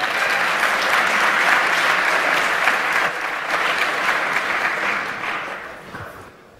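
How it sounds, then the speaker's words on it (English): An audience at a cryptography conference talk applauds, sustained dense clapping from a large crowd that gradually thins and fades out over several seconds. "Give him a round of applause for getting up early"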